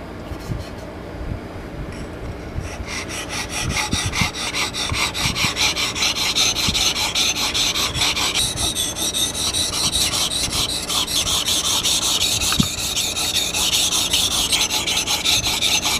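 An old rusty hatchet hammer being sharpened by hand, giving a steady, continuous rasping and rubbing with repeated strokes, close and fairly loud, with no voices.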